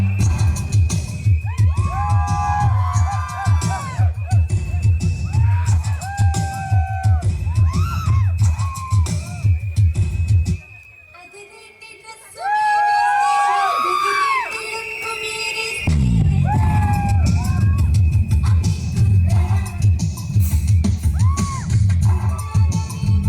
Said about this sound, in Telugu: ఒకసారి గట్టిగా క్లాప్స్ అండి, కమ్ ఆన్.